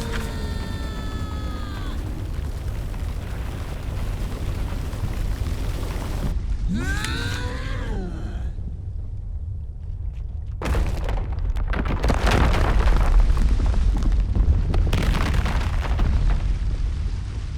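Explosion in the video game Lost Words, a broad rumbling boom with crackling bursts swelling over the second half, preceded by a brief whooshing effect and soft ambient music.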